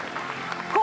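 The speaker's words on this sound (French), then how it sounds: "on peut l'applaudir" Audience applause at a corporate panel debate welcoming a UN expert to the stage, a continuous crowd of clapping hands with a voice briefly rising over it near the end.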